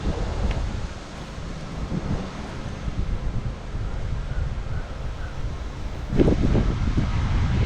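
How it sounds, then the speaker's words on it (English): Wind blows at a motorcycle campground, a steady low rumble buffeting the microphone, with a stronger gust near the end. "I apologize for the wind, I know it's probably windy."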